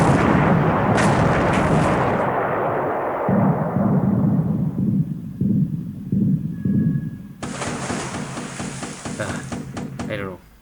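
250 kg bombs striking a large ship in a Pacific war video game: a loud blast fades into a run of rhythmic thumping bursts, then a sharp noisy crash late on.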